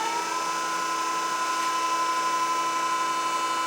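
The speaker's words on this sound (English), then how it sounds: "we'll do a couple on-offs with the spindle" Spindle of a Denn RPI 300 CNC hydraulic spinning lathe running up, a steady high motor whine holding level after a brief rising start, close and unbroken with no speech.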